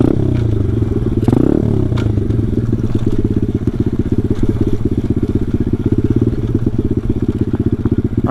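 A pit bike engine chugs loudly and steadily while riding over deep ruts on a dirt track, with rattling clatter from the bumpy ground and a short rise in revs near the start.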